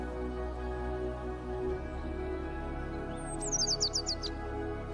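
A myna bird gives a short run of quick, high chirps near the end, heard over a steady low background hum in a calm setting.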